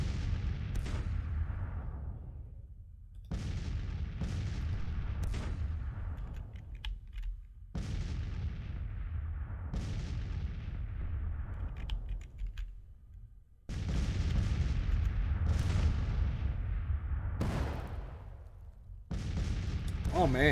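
Grand Tactician battle cannons firing in repeated booming volleys, each a sharp blast that rolls off into a long rumble, with a distant crackle between shots.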